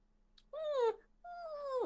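A female dog gives two high, drawn-out whimpers, each falling in pitch, separated by a short pause. Both sound close and clear over a faint steady hum.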